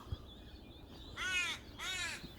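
A crow caws twice outdoors at Sturt Creek gorge, two loud harsh calls about a second apart over faint wind.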